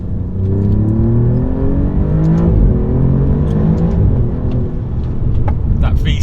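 The V6 of an Alfa Romeo Giulia Quadrifoglio accelerates from a slower speed, giving a loud, steady, rising engine roar with deep rumble that builds and fills the whole span without a break.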